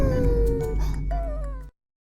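An anime cat, a huge behemoth creature, gives one long, loud, close meow that wavers in pitch and then stops abruptly into silence.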